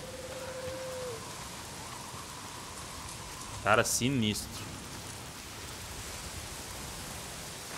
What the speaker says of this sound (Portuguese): Será que o barulho da chuva influencia?